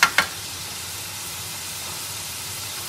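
Garlic ginger paste and mutton fry in a pan, opening with two sharp hissing bursts, then settling into a steady, even sizzle that fills the rest.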